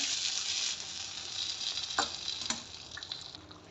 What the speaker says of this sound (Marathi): थोडंसं हिंग टाकायचं आणि हे मी किती मस्त तडका बसलेला